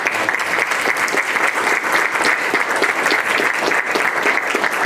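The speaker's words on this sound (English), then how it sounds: "Can we give one more round of applause to the panelists" An audience at a panel discussion gives a loud, sustained round of applause for the panelists, dense even clapping with no talk over it.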